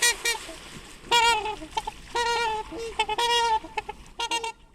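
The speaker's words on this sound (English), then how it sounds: "they are just honking at each other" Trumpeter swans trade loud, brassy honks back and forth, harsh horn-like calls coming in repeated bursts with short gaps between them, close by and with no talking.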